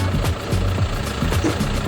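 A John Deere 6420 S tractor engine idles close by with a steady, low, rhythmic diesel chug and regular knocking pulses, with no talk over it.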